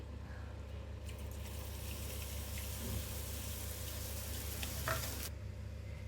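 Boondi, small gram-flour droplets, frying in hot oil: a steady, dense sizzle holds throughout at close range, with a few brief bubbling bursts near the middle and toward the end, and no voices.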